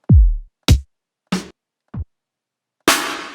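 A sparse electronic drum pattern: a deep booming kick, then separate snappy hits and a final crashing hit, with silence between each.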